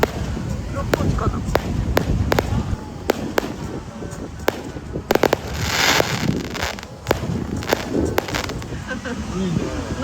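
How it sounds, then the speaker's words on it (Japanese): Fireworks go off near a beach at Jimbaran in Bali during the rainy season, with sharp, irregular bangs and crackles over about ten seconds, close and loud, while people talk. "なぜか花火が上がってます。"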